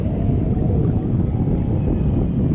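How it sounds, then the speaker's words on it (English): A MacGregor 26X sailboat motors along under a 50 horsepower outboard, giving a steady, loud, continuous engine drone mixed with rushing water and wind noise, with no speech. "I'm just motoring because I've got a 50 horsepower motor on it"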